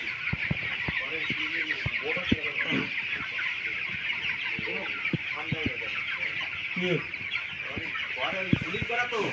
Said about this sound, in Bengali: বড় প্রজেক্ট ব্রয়লারের 2900 মুরগি।